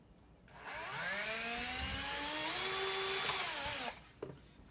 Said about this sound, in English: I'm gonna take my drill, and then I'm just gonna